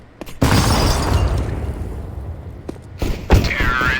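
Grenade detonating in Counter-Strike: Global Offensive: a loud, abrupt blast with a long rumbling tail, then a second sharp burst near the end, close and dominant.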